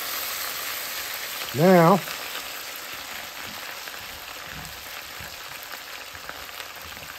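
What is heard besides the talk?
potatoes frying in a skillet, being stirred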